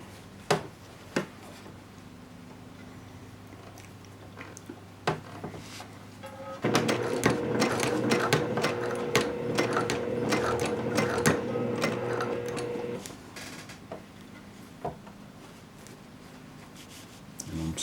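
A sewing machine stitches fabric for a courier bag in a burst of rapid, steady whirring lasting several seconds, with a few clicks and handling noises before and after.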